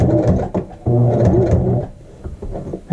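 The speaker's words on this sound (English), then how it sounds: "Now we're going to do a little forward and a little back stitch." A sewing machine stitches forward and then backward on a fabric patch in short bursts of close, buzzing motor whir separated by brief pauses.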